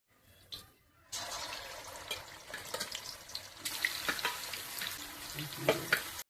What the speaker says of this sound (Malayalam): ചിക്കൻ വറുത്തെടുക്കാം.